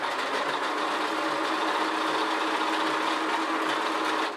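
Sewing machine stitching at its longest stitch length on a thrifted blanket, a steady mechanical whir with a soft regular thumping rhythm, close and continuous throughout.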